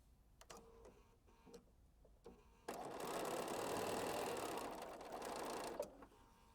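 A sewing machine runs steadily for about three seconds, stitching a quilt seam, after a few soft handling clicks and taps, then stops with a final clunk and light rustling.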